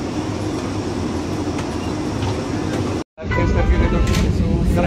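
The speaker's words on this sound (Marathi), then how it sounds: "आता मी आलेलो आहे वंदे भारत ट्रेनमध्ये बसलेलो आहे. ट्रेन सुरू झालेली." Rolling rumble inside a moving Vande Bharat express train carriage, steady and close, broken by a sudden brief dropout before resuming slightly louder with faint rail squeal.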